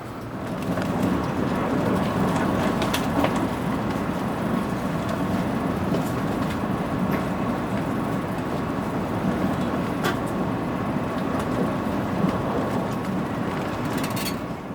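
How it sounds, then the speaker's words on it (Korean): A KTX high-speed train races past near Gyeongju at 240 km/h, a dense steady roar and rumble of wheels and air with faint rattling clicks, heard continuously for the whole stretch. "열차는 경주 인근을 시속 240km의 고속으로 지나칩니다"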